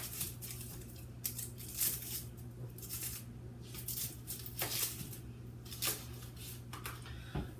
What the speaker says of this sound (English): So we're going to cut this onion.